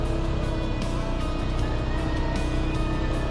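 Honda Click 160 motor scooter running, a loud steady engine drone with road and wind rumble, constant and close throughout with no talk over it.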